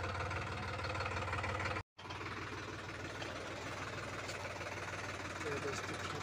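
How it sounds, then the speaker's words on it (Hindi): A Sonalika DI RX 35 tractor engine runs steadily with a loaded cultivator on its lift, a loud, even diesel chug with rhythmic knocking, briefly cut by a short gap, with no speech. "ट्रैक्टर जा रहा है"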